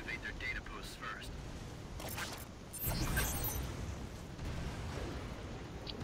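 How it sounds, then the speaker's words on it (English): Explosions and heavy gunfire in the video game Lost Planet 2 during a co-op battle, several loud booming bursts in the middle with continuous combat noise around them. "So much explosions, what's happening?"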